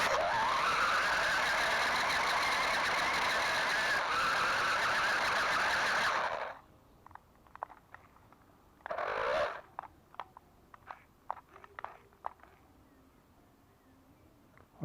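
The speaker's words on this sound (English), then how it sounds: "we're still getting that horrible noise out the gearbox" A gearbox fitted with a 3D printed pinion gear runs with a loud, harsh grinding whine for about six seconds, then cuts out, leaving scattered clicks and one short burst of noise.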